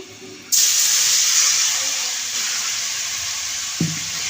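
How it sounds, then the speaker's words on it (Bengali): Ground chili, cumin and coriander spices hit a hot pan with water for a khalisa fish curry, bursting into a loud steady sizzle that slowly eases, followed by a small clink near the end. "মশলাটা আমি কষিয়ে নিব"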